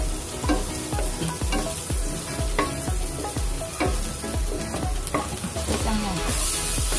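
Garlic sizzles steadily in melted margarine in a pan, with dense crackling throughout and repeated scraping strokes of a utensil stirring it up close.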